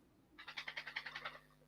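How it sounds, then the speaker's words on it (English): A dog shaking itself off: a quick, faint burst of rapid flapping pulses lasting about a second. "that's my dog having a shake"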